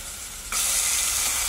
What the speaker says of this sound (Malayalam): സവാള അതൊന്ന് വഴറ്റിയെടുക്കാം